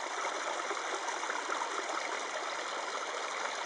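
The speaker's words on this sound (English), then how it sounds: "We have some lovely water. And the waterfalls that you can't quite see through the camera view," Waterfalls and a flowing stream on the Bluff Springs Loop in Arizona's Superstition Mountains give a continuous, even hiss of rushing water, steady and fairly close, with no other sounds.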